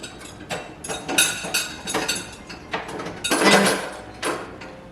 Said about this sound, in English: Mix the chocolate chips and your other mix-ins now with a spatula